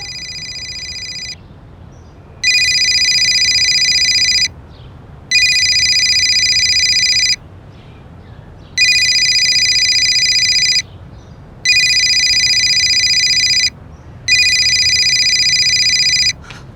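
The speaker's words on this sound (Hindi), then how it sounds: "मम्मी की फोन की रिंग तो अंदर से आ रही है।" A mobile phone ringtone rings from inside a house in repeated bursts of a bright electronic melody, about five rings separated by short silences, fairly loud and close.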